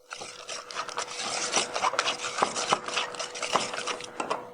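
Spices whisked together in a bowl for a Texas-style remoulade sauce, giving a steady close scraping and rubbing rasp with quick irregular strokes throughout, with no talking.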